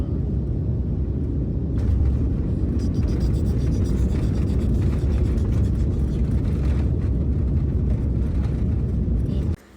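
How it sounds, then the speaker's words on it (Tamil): A steady, loud, low rumble of airliner cabin noise fills the whole stretch as the plane lands on an international trip, with a faint mechanical rattle and no clear voices; it cuts off sharply at the very end. "நம்ம இப்போ லேண்ட் ஆகிட்டோம்."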